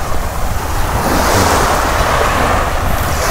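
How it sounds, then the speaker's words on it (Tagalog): Steady roar of surf breaking and washing onto the shore of Calubcub Bay, San Juan, Batangas, at low tide in rainy weather, loud and continuous, with wind buffeting the microphone throughout. "Dito tayo sa tabing dagat."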